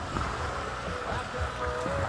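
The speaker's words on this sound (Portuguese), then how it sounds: "Muito vento. Olha só o tamanho das ondas." Strong wind buffets the microphone over choppy lake waves, a steady broadband rush with low rumbling gusts and splashing throughout, close and continuous with no talk.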